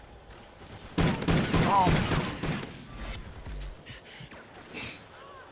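A semi-automatic gun in Call of Duty: Ghosts Gun Game on the Freight map fires a quick run of close, punchy shots, with scattered game sounds after and a brief spoken exclamation.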